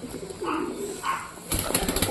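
A pigeon coos softly twice nearby, then a brief flurry of wing flaps or scuffling follows.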